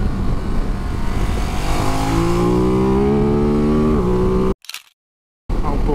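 A Ducati DesertX V-twin motorcycle rides past the camera, a loud engine note that climbs in pitch through the gears as it accelerates away, then cuts out abruptly.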